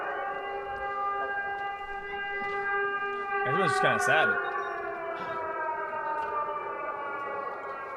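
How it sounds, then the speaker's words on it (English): A long, steady wailing air raid siren sounds in the distance in Ukraine during wartime while a person speaks briefly over it. "Every time the siren is here, I just tell her that it's fireworks."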